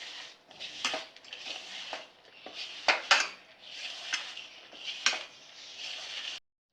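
Masala peanut mixture being stirred and tossed by hand in a bowl, a series of rustling, gritty swishes and soft clatters in uneven bursts, close and moderately quiet, no talk.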